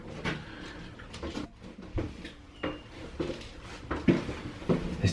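A hollow-core interior door is lifted off its hinges, giving a string of close, hollow wooden knocks, scrapes and clunks with a few sharper taps near the end.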